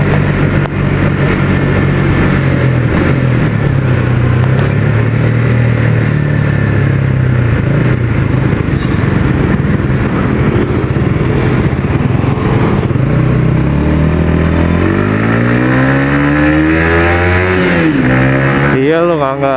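A Yamaha XSR 155 café racer fitted with an R25 exhaust rides along, its engine droning steadily under wind roar, then revving up and down through gear changes near the end, with people talking over it throughout.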